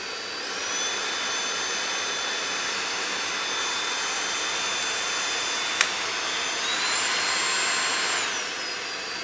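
A WOWGO cordless stick vacuum cleaner runs with its brush spinning, a steady close whooshing motor roar with high whining tones that shift in pitch partway through, one brief click, and no talk.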